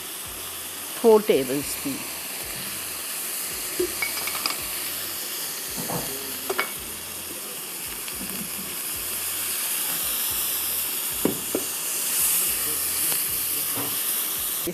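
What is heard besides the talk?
red onion added to hot oil, sizzling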